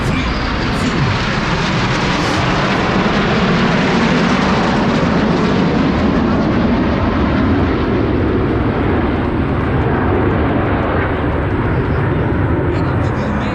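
Frecce Tricolori aerobatic jets crossing at an airshow in Orange County, New York, producing a loud, continuous roaring wash of engine noise that holds steady for the whole stretch.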